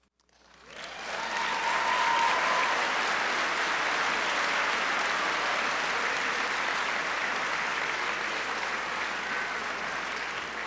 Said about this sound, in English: It's okay to clap for that.